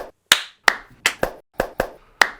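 Close, sharp hand claps, seven in all, spaced unevenly with short pauses between them and no one talking.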